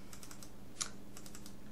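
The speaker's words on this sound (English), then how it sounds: "I'm just double clicking" Computer mouse double-clicks while working in Adobe Illustrator: a small, quiet indoor desk sound with a sharp tick near the middle and a few soft clicks and taps around it, heard alone without speech.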